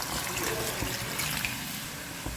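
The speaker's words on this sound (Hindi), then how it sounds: "इसलिए मैं सिर्फ 1 गिलास ही इसमें पानी डालूँगी" Water poured from a glass into a pot of chicken cooking for achar gosht, a steady close splashing pour that runs throughout without pause.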